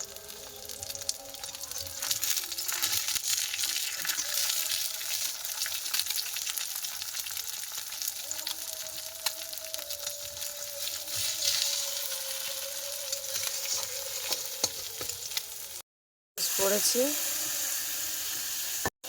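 Eggplant fries in a pan with a continuous, fairly quiet sizzle and crackle, broken by a brief silence near the end, while a person speaks a few words nearby.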